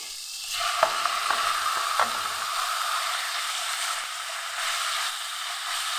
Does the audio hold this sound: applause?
no